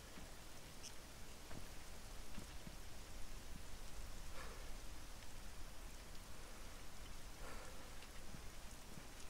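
Rain falling in the military game Arma 3, a steady hiss of rain with scattered droplet ticks, fairly quiet and continuous, without talking.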